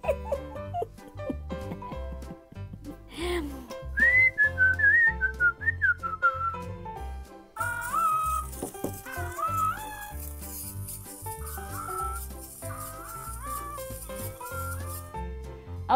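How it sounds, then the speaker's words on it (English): A person whistles a wavering melody while a Boogey Monsters toy answers with warbling, singing tones over steady background music. "as you can see, when you whistle, he sings with you"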